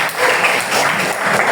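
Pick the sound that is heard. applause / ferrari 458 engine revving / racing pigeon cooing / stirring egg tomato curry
applause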